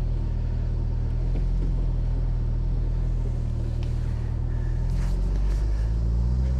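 An Audi car fitted with bucket seats drives along, its engine and tyres making a steady, loud low rumble throughout with no one talking.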